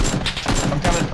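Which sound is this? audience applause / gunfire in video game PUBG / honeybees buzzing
gunfire in video game PUBG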